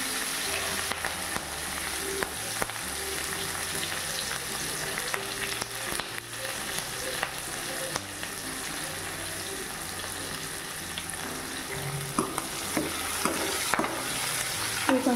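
Curry leaves and onion frying in a pan, a constant soft sizzle broken by repeated stirring scrapes, close up with no voices.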